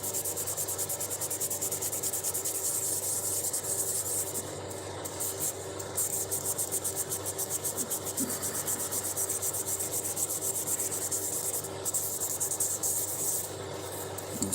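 Steady hand rubbing of a sanding pad over stone, a continuous dry scratchy hiss with slight rhythmic variation from back-and-forth passes, close and fairly quiet, with no talking.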